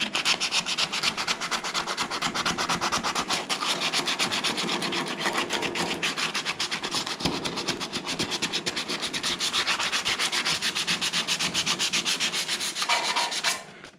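Abrasive stripping of paint from the body of a 1969 Ford Mustang Mach 1 gives a continuous, close, rasping scrub with a fast rhythmic grind that holds steady for the whole stretch before cutting off.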